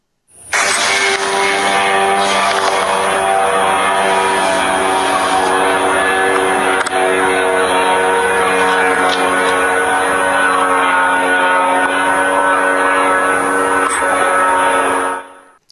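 An attack drone flies over a military airfield in Ukraine during an air raid as air defences try to shoot it down. Its loud, steady droning engine buzz holds throughout, with a few faint sharp cracks underneath.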